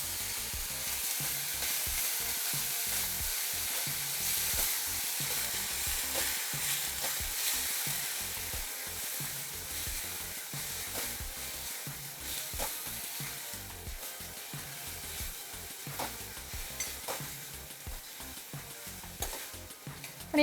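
Fenugreek leaves sautéing in a hot pan for dhaba-style methi dal, a steady bright sizzle with frequent stirring scrapes of a spoon against the pan, close and continuous.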